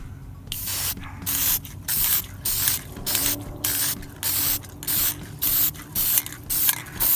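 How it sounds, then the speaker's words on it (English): A can of Rust-Oleum hammered spray paint hisses in short, regular bursts, about a dozen sprays each lasting under a second, separated by brief pauses and faint clicks. "So I got this Rust-Oleum hammered spray. We're going to spray them"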